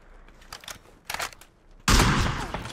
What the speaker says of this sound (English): Shooting our tires.